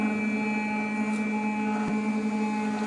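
FlashForge Creator Pro 3D printer heating its build tray and extruder, giving off a steady electrical hum with faint high tones and a soft click, constant and close.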